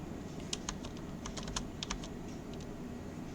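A URL being typed on a computer keyboard, a quick run of crisp, close key clicks in short irregular bursts over a low background hum, no speech.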